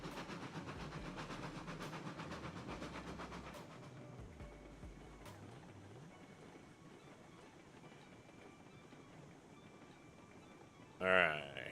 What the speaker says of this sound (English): Oh, you're on the log train?